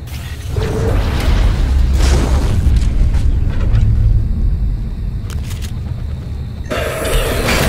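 A Kinetic Blast power combined with Mimic in the sci-fi game Prey fires off loud booming blasts and deep rumbles, forming a continuous heavy roar with sharper bursts near the end.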